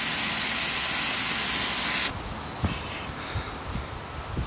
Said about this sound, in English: Spray paint comes out cool, makes it one of a kind.